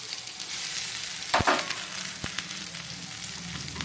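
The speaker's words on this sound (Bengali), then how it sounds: "এবার দিয়ে দেবো আমি আদা রসুনের পেস্ট।" Ginger garlic paste hits browned, softened onions in hot oil with a steady broadband sizzle, a sharp burst of spattering and stirring at the start, then a continuous close frying hiss with no talk.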